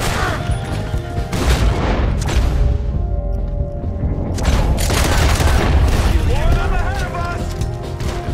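Heavy gunfire and explosive booms in Red Dead Redemption 2 during a fort invasion, sustained volleys and blasts with a brief lull in the middle, with a voice talking over the battle.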